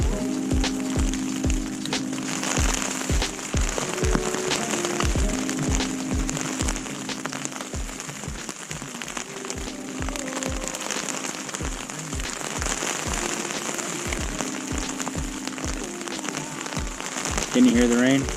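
Steady rain drums on a tent at a 4x4 campout in Indian Valley, a dense close patter running throughout with a faint voice briefly heard near the end.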